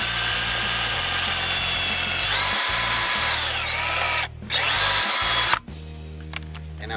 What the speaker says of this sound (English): now I'm gonna just drill a small hole here to get the